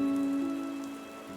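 Steady rain falls in a cartoon scene, a soft even wash under a sustained musical tone.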